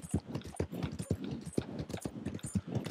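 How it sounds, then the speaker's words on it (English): Horse galloping in Red Dead Redemption 2, its hoofbeats landing in a steady, fast rhythm of thudding clip-clops, close and moderately loud throughout. "We're going to gallop as much as we can"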